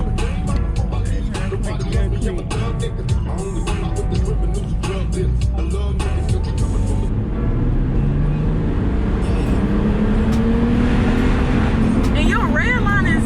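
A BMW car revs hard and accelerates while being driven, the engine a loud, continuous roar with rising pitch, heard from inside the car under excited talking from the occupants.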